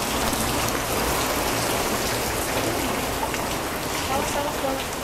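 Heavy rain pours steadily and loudly throughout, a dense continuous hiss of drops with no breaks, heard outdoors near an old cinema building.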